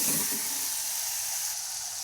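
Coarsely ground chillies dropped into hot oil, a loud, steady sizzling hiss that starts at once and holds without a break, close and alone.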